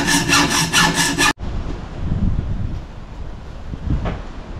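Handsaw cutting wood for a built-in caravan workbench, with rapid rhythmic rasping strokes up close that stop abruptly, followed by breezy outdoor wind noise and faint handling sounds.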